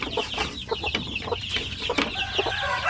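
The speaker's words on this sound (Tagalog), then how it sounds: "Yung ibang mga sisiw dito" Native chickens and chicks make busy clucking and chirping, with many overlapping calls close by and continuous through the clip.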